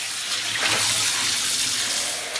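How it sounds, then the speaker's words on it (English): Salted cod fillets are rinsed gently under a running kitchen tap, a loud, continuous gush of water splashing over the fish with slight swells in flow. "rinse the fish under a running tap"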